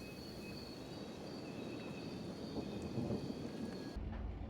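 Rain and thunder in a foggy scene in the modded horror game Kenshi, a steady hiss of rainfall with a low rumble swelling near the middle, faint insect chirps above, and an abrupt change just before the end.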